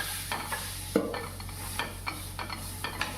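Boiled green banana is stirred into fried onions in a pan for kacha kolar bhorta, with repeated scraping strokes of a spatula over a soft background sizzle.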